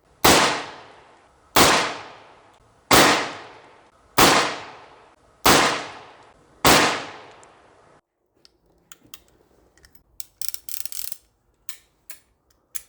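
Six loud, sharp shots from a Colt Single Action Army 1873 revolver ring out at an outdoor range, evenly spaced about 1.3 seconds apart with a decaying echo after each, followed by faint mechanical clicks of the action.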